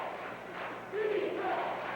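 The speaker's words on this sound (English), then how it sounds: "The crowd chants defense." A 1985 college basketball crowd chants defense in unison, a brief rising roar of many voices heard from within the arena.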